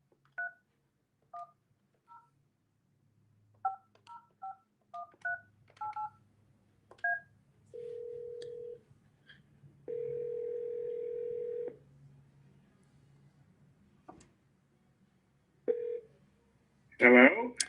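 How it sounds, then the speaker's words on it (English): A telephone number is tapped out as a series of short touch-tone beeps in irregular groups, with longer steady dial and ringback tones between them, quiet room noise and a voice briefly at the end. "We're going to call you here any minute, Jan."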